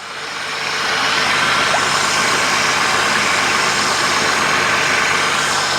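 A truck engine rumbles steadily at idle, a loud, constant drone that swells briefly at the start and then holds even.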